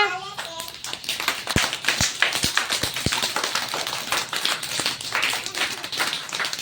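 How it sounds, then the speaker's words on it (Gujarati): A group of children clapping together after a drawing competition, steady rapid applause with sharp individual claps standing out near the start, close and fairly loud throughout. "ચાલો આપણે બધા આ બાળકો માટે તાળી પાડીએ"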